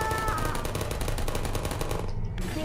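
Rapid automatic gunfire from a turret in the video game Portal, a dense continuous stream of shots filling the whole moment, loud and close, ending with a brief gap and a short electronic tone.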